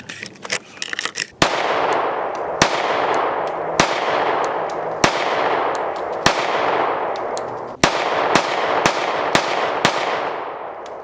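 A Glock G19 Gen 6 pistol fires a steady string of loud, close shots, each sharp crack followed by a long ringing echo, spaced roughly a second apart after a few lighter clicks at the start.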